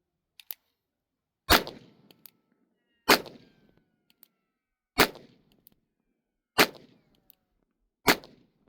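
Five loud, sharp revolver shots in .38-40 caliber fired at a target outdoors, evenly spaced about one and a half seconds apart, each a crisp crack with a short ringing decay; faint clicks before the first shot, no talking.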